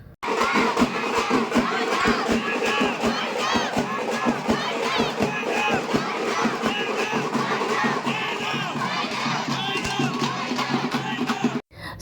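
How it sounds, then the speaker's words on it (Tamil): A dense crowd at a Mariamman temple festival chants and shouts Govinda over music, a loud continuous roar of many voices with sharp rhythmic hits throughout, close and unbroken. "பசங்க எல்லாருமே வந்து அங்கே இருக்கிறவங்க எல்லாருமே கோவிந்தோ கோவிந்தோன்னு போடுற அந்த சத்தத்துக்குமே"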